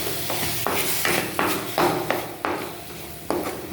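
Slow sautéing in a pan over low heat, a dense steady hiss punctuated by rhythmic stirring strokes about every half second, close and loud.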